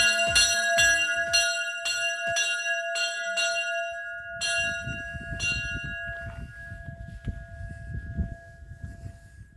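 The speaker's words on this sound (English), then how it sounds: "it's a tradition to ring the bells for a fair wind and following sea" Bells ring at St. Nicholas chapel on the island of Lošinj, several bright clanging strikes with long ringing tones, then fading under a low rumbling background.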